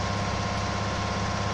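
A Sonalika DI 750 tractor engine from the Farming Simulator 19 video game runs in a steady, loud low rumble with constant vibration and no pauses or speech.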